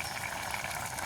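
A steady, low bubbling hiss of curry simmering in a pot in a village kitchen, continuous and close, with no voices.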